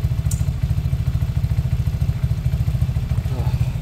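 A 125cc Chinese cruiser motorcycle engine running steadily while being ridden, a close, continuous low pulsing thrum with an even rapid beat and no talk over it.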